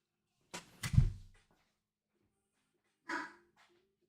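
A dog barks a few sharp times close by, with a short cluster early on and one more bark after a pause of silence.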